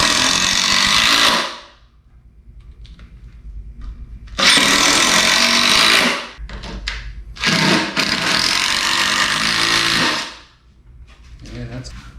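A power drill drives screws into a patio bench frame in three loud, close bursts of high whirring, separated by quieter gaps.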